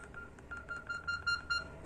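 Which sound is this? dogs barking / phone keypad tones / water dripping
phone keypad tones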